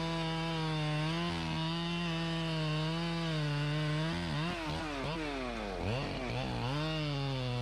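A chainsaw cuts a hardwood tree low near the stump, its engine droning loud and close. The pitch holds steady, then bogs and rises several times as the chain bites into the wood.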